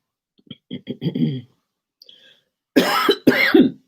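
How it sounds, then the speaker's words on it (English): A man coughs several times in short bursts, first a few lighter hacking coughs, then after a pause two heavier, louder coughs close to the microphone, with no talking. "Just a cough."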